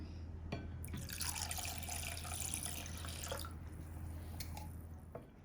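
Tap water runs into a pan of sweet and sour prawn sauce in a kitchen. A steady splashing gush starts abruptly and flows for a few seconds, then thins to trickles and drips, close and unaccompanied by speech.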